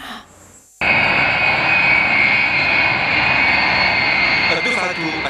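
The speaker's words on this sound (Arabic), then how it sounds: "على متن طائرة تابعة للقوات الجوية" An air force airplane arriving in Algeria with a Chinese vaccine shipment roars loudly after a brief quiet moment, its engine noise sustained and close for several seconds.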